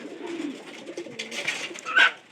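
Domestic pigeons kept at home coo softly in low, throaty bursts nearby, with a brief louder flutter of sound near the end.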